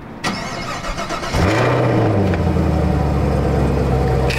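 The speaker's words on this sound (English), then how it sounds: "we finna get one started up for y'all so y'all can hear the exhaust" A car engine cranks and catches after a quiet moment, then settles into a loud, steady, deep exhaust rumble at close range.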